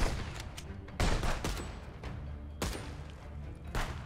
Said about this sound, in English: They're firing, they're firing with like, different guns.